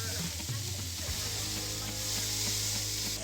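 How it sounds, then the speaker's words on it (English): Maple syrup, Cholula hot sauce and warm water mixture spritzed onto smoked pork belly, giving a steady close hissing sizzle with faint low rumbling underneath and no talking. "time to give it a spritz. This is a mixture of maple syrup, a little bit of Cholula hot sauce, and the rest of it is warm water"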